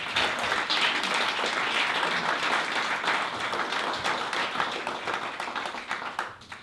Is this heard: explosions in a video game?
no